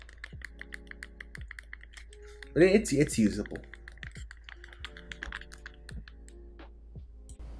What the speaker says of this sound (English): here I'm just clicking the keyboard to give you guys an idea of how it sounds.